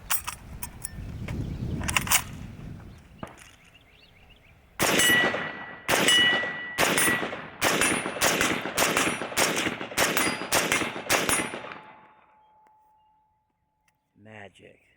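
Yugoslav SKS rifle with its bayonet attached firing a string of about ten loud, sharp shots at a steady pace outdoors, with talk before the shooting begins.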